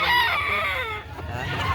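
A green-legged Gilmore gamefowl rooster of derby size crows once nearby, a loud drawn-out call that trails off, with faint background noise.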